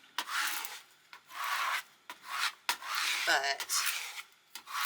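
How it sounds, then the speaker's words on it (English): A scraper rubs firmly over iron-on vinyl on a Cricut craft project in several separate swishing strokes of scraping friction, close and fairly quiet, with a brief voice at one point. "Bringing in my scraper once more."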